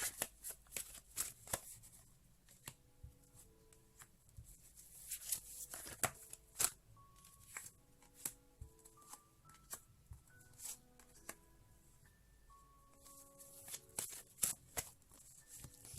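Cards riffled and shuffled repeatedly in quick bursts, close and crisp, with soft tonal notes playing faintly in the background.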